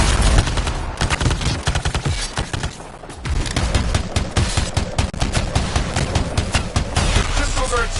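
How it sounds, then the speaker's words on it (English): Crystals exploding in the game Anthem produce dense, rapid crackling blasts like a volley of gunfire, loud and sustained with a brief lull midway, over a busy game soundscape. "The crystals are exploding"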